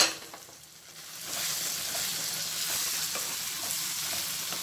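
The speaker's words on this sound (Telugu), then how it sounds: "ఇప్పుడు కొద్దిగా ఆనియన్స్ ఫ్రై అయ్యాయి" Sliced onions with a pinch of turmeric powder frying in oil in a pan for a Rayalaseema-style gram-flour chutney, giving a steady, close hiss of sizzling that swells after the first second and continues unbroken with no talk.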